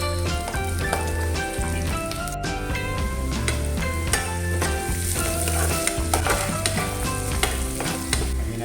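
Onion and garlic sautéing in a pan for ginataang pusit, a loud, dense, continuous sizzle and crackle with scattered stirring scrapes, backed by steady music.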